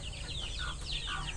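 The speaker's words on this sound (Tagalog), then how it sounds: "Si Vilas nagpapakain ng mga alagang manok." Backyard chickens clucking softly nearby while being fed, a short cluster of quick, chirpy calls over a faint background hum.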